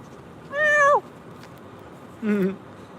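Two clear meows from a pet cat indoors, the first a longer falling cry and the second shorter and lower, separated by a pause of about a second and heard with no talking.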